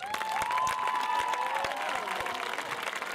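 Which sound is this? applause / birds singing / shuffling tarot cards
applause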